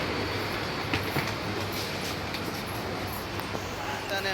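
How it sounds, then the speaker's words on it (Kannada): A Bangalore metro train rolls along with a steady, loud rumble and faint wheel clatter heard from inside the carriage, with no speech over it. "ಬರೋ ಟೈಮಿಗೆ ಕರೆಕ್ಟಾಗಿ ಮೆಟ್ರೋನು ಬಂದಿದೆ"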